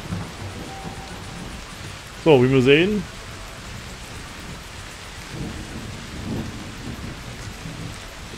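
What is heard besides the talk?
rain and thunderstorm in Professional Farming video game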